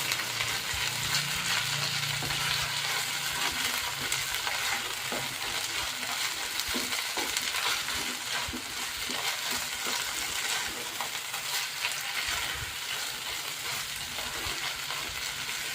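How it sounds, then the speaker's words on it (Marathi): Grated corn roasts in ghee in a pan for corn halwa, giving a continuous close sizzle with repeated scraping and clinking of a spoon as it is stirred. "तो चांगला सोनेरी कलर येईपर्यंत ना आपल्याला तुपात भाजून घ्यायचं आहे"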